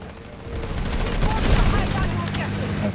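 Rapid M4A1 rifle fire in the Delta Force shooter game, a dense stream of loud shots and crackling impacts filling the whole moment, with a voice speaking faintly underneath.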